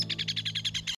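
A cartoon bird chirps in a quick regular series of about nine bright tweets over a low sustained tone, close and clear with no talking.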